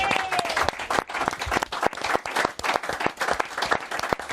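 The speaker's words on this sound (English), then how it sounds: "Round of applause for our George." An audience gives a round of applause for George, the dense clapping sustained and fairly loud throughout with a few sharper claps standing out.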